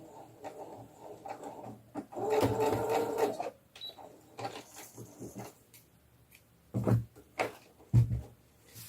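A sewing machine runs in short bursts, backstitching at the end of a doll's pajama hem, its fast mechanical chatter close and clear amid small handling clicks and a pause.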